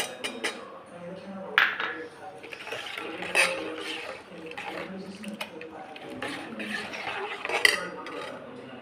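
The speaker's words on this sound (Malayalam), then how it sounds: "പിന്നെ എഗ് വൈറ്റ് ഒഴിച്ച് മിക്സ് ചെയ്യാം" Clinks and scrapes of a utensil against a container come in intermittent bursts as egg white is stirred into grape juice for homemade wine, with a voice in the background.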